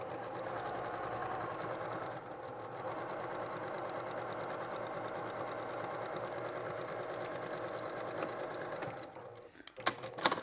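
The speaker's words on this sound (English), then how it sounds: "Let's get this all stitched in." Sewing machine stitching a travel shave bag, running in a steady rapid whir of needle strokes for about nine seconds before slowing and stopping with a few close clicks at the end.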